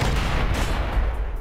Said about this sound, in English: Now I've tested it. The explosion radius isn't half bad.